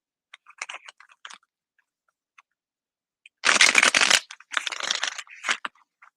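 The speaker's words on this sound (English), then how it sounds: "Let me shuffle this up real good." A deck of tarot cards is shuffled close up, first in a few light, scattered riffles, then in longer, louder bursts of rapid card flutter with short pauses between them.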